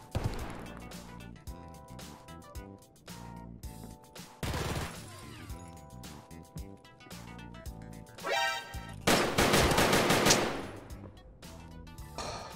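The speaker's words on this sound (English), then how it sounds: "Did you hear his gunshots?" Gunshots in Escape From Tarkov, a few loud, sharp bursts of gunfire over a busy game soundscape with background music.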